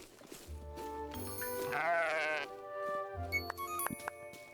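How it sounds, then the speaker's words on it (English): Sheep in the Tales of the Shire video game let out a couple of bleats over a steady, tonal game soundtrack, fairly soft and close. "Oh, look at the sheep."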